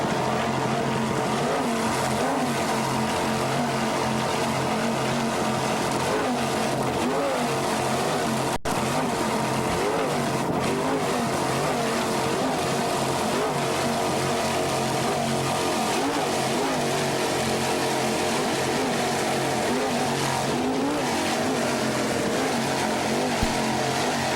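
Offshore racing powerboats roar past at the 1990 Key West world championships, a dense, sustained engine drone with shifting tones as boats pass, steady and loud throughout with no voices.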